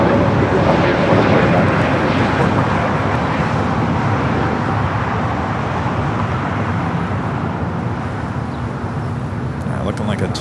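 Frontier Airbus A320neo at Los Angeles International, a steady jet roar that is loud at first and slowly fades, set against background traffic noise.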